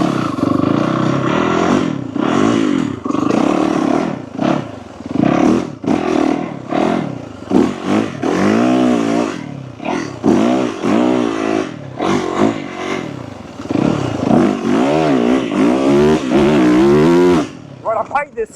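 A Yamaha YZ450FX dirt bike is ridden hard off-road, its engine snarling and revving up and down in rapid bursts with brief throttle chops, loud and close from the rider's position throughout.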